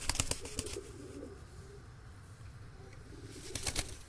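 Pigeons in a high-flying pigeon breeding loft give soft, low cooing calls, with a flurry of wing flaps and shuffling near the start and again near the end.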